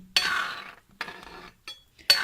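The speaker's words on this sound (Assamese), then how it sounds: "মই এৰি নিদিওঁ, লৰাই থাকিম, নহ'লে হয় গোটা বান্ধি যাব" A spoon clinks and scrapes against a pot while pakoras are stirred for a pakori sabzi, in short separate bursts with pauses between, close and fairly quiet.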